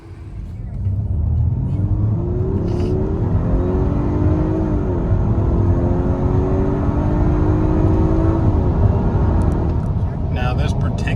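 A 2021 Audi A5 Sportback drives along with a steady, loud engine and road rumble, rising pitch as it accelerates through gears, with a voice talking over it.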